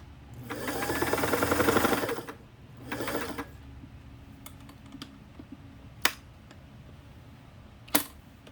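A Singer 327K domestic sewing machine stitches in two bursts, a long steady whirring run and a shorter one, followed by a couple of sharp clicks in the quiet afterwards.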